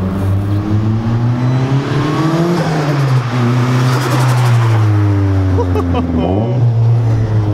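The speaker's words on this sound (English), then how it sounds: "Try and get some flybys right now so you guys can hear how good this turbo sounds." A turbocharged Nissan 240SX with a KA24 engine roars past close by, engine note rising and falling with a whistling turbo, while a voice talks over it.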